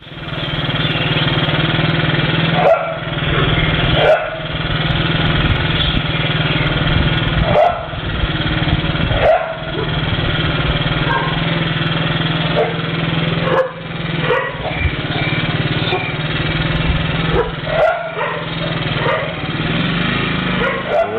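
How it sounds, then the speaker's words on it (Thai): A dog barks in sharp, repeated bursts at a passing motorcycle carrying a couple, while the motorcycle engine drones loudly underneath. A voice speaks over the scene. "หมาก็เห่าทักท้วง หาฟังไม่"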